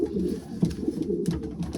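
A pigeon coos close by in a low, rolling, repeated rhythm, with a few soft knocks and rustles in between.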